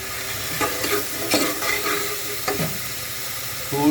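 Spices being dry-roasted and stirred in a pan for a Hyderabadi-style chole in green masala, with a steady soft sizzle broken by a few scraping stirs of a spoon against the pan, close by and with no talking.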